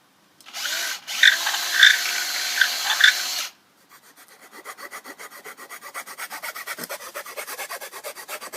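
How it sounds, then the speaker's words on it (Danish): A steady abrasive rubbing for a few seconds stops, then a power drill whirs and grinds through a wooden stick with a rapid, pulsing chatter, close up. "så tager du boremaskinen og borer et hul igennem den her pind her"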